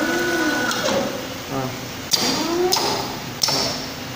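A cable winding and tying machine runs with a whirring mechanical motor sound that rises and falls, broken by a few sharp clicks and taps near the end, close by.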